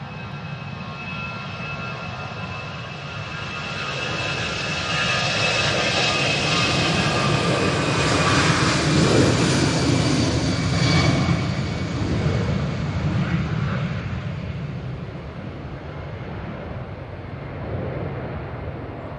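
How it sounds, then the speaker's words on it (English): A Finnair jet departs Manchester Airport for Helsinki on a windy day, a broad roaring engine rumble that swells to a peak midway and slowly fades, heard from a distance with wind noise and no talking. "Finnair back to Helsinki."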